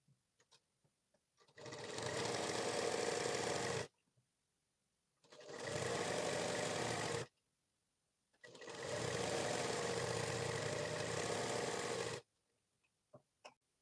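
A sewing machine stitches a 40-inch blouse in three long runs of steady, rapid whirring, separated by quiet pauses with faint handling clicks, close and fairly loud with no speech.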